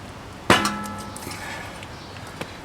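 A sharp metallic clang rings out as big pipe wrenches bend a pipe for a motorized bike build with a 3HP four-stroke engine, the ring decaying over a second, with a few lighter knocks and a second small clank later.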